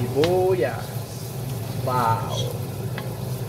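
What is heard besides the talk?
stirring onions sautéing with garlic in a pot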